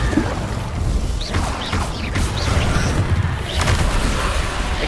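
The Incendio fire spell cast in Hogwarts Legacy gives a continuous roaring, whooshing blast of flame that stays loud and rough throughout, with surging swells.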